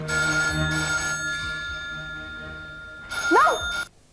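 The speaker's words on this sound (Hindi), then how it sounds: "Don't pick up the phone." A telephone rings in a television advert, with two bell bursts early on and a third louder ring near the end, heard alone without talk.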